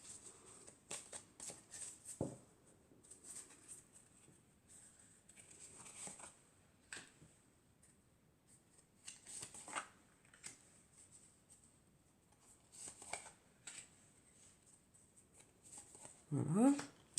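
Oracle cards shuffled by hand, soft papery riffles and taps repeating in quiet bursts, ending with a louder handling thump.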